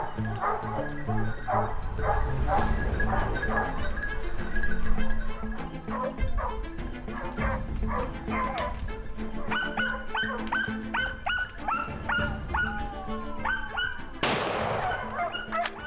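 Hunting dogs barking and yelping during a wild boar hunt in the Spanish countryside, with a pack giving repeated overlapping barks, whines and yips throughout, and a sharp loud burst near the end that may be a gunshot.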